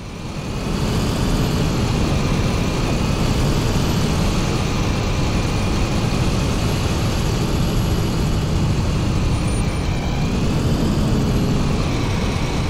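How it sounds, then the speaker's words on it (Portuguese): A VDL coach bus is driven in Fernbus Coach Simulator with the window open. A loud, continuous engine drone and road rumble run steadily throughout with no talking. "Deixei o vidro aberto ali só pra gente escutar um pouquinho melhor o som do ônibus"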